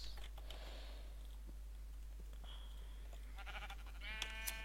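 Sheep in Minecraft bleat a few times over a faint steady background hum, with a short bleat early on and a clearer wavering one near the end.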